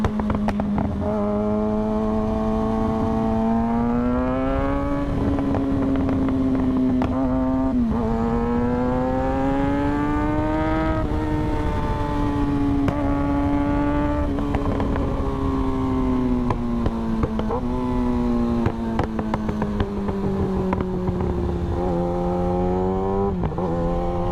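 A 2023 Kawasaki ZX6R motorcycle engine while riding makes a loud, continuous whine that rises and falls with repeated throttle changes and gear shifts, close and alone with no talk.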